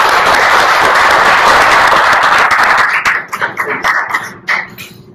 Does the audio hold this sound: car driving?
no